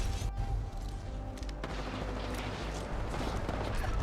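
In the Apex Legends video game, a grenade blast and gunfire fill a dense, continuous wash of booms and rattling shots, loud and busy throughout without clear gaps.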